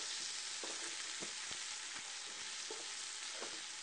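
Sliced onions fry in about six tablespoons of butter in a pot for French onion soup, with a continuous close sizzling hiss and a few soft stirring knocks.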